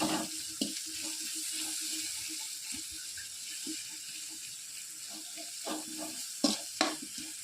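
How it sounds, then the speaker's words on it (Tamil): Crushed garlic sautéing in a pan for a pepper curry: a soft, steady sizzle with occasional stirring scrapes and a few louder clatters toward the end, fairly quiet. "பூண்டை நல்லா நசுக்கி அதையும் போட்டுக்கணும் போட்டுக்கங்க அதையும் நல்லா வதக்கிங்க"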